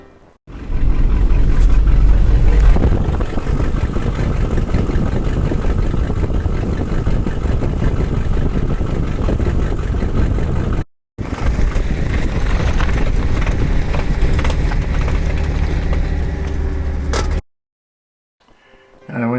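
A U-Haul truck driving with a failing transfer case that is grinding itself apart, a loud continuous drone and rumble of engine and drivetrain that cuts out briefly, resumes, then drops to near silence at the end.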